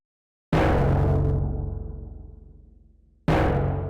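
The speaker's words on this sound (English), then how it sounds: "they had a timbale that was played across the keyboard at multiple pitches" Two loud, booming sampled timbale hits at different pitches, each with a long, slowly decaying ring; the second strikes just as the first fades out.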